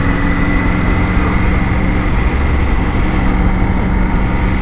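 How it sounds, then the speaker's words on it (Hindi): Triumph Tiger 900 motorcycle engine cruising in fourth or fifth gear at about 50 km/h, a loud steady drone with dense rumble and constant wind roar, no voices. "बाइक इस समय बिल्कुल ऐसे चलाई जा रही है जैसे बुलेट चलाते ना, चौथे पांचवें गियर पर डाल के 50 की स्पीड पे डुग डुग डुग डुग"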